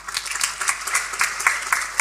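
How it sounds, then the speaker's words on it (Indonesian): A church congregation at a sermon bursts into applause, with dense overlapping hand claps that stay steady and fairly loud throughout, heard across a hall. "Tepuk tangan saudara."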